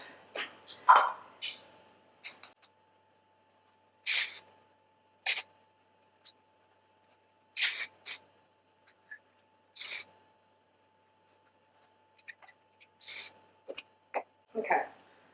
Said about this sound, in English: I'm going to take it with a brush and just spray it up